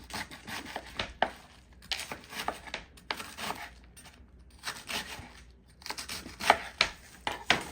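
A knife slices through a head of cabbage on a cutting board, a series of crisp, crunchy chops in uneven bursts with short pauses, close and moderately loud, no voices.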